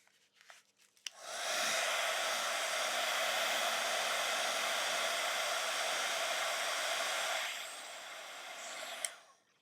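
A hair dryer blows steadily on a watercolor card made with watercolor brushes, running as a loud, continuous close whoosh for about six seconds before easing slightly and cutting off.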